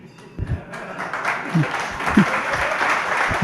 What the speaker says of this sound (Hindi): एक आध बार ताली बजाना तो ठीक है